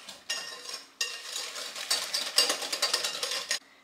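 Two whole eggs are stirred briefly by hand with 180 g of sugar and vanilla sugar for a cookie dough. Close, quiet, rapid scraping and clinking of the utensil against the bowl comes in short bursts.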